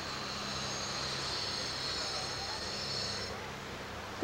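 A propeller airplane flies over a beach, a steady broadband drone with a faint high whine heard from a distance, continuous for several seconds before fading slightly.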